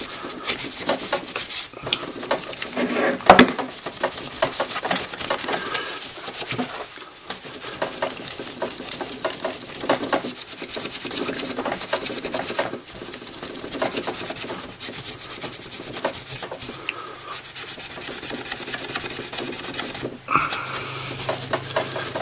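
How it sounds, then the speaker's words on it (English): A magic eraser rubs paint off a gun to give it a worn vintage look, a continuous close scrubbing and rasping with steady back-and-forth strokes and occasional knocks. "this magic eraser, kind of does it gradually. It's not going to rub it off too quickly"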